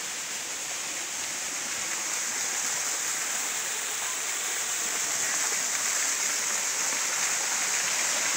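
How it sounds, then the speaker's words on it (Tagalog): Steady rushing water from a small waterfall pours continuously with a bright, hissing splash, close by and fairly loud, with no voices. "So ang ating munting talon."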